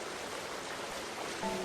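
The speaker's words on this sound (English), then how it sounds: "It was a waterfall." Running water from a waterfall, a steady broadband rush heard from some distance, continuous and even without breaks, heard alone without voices.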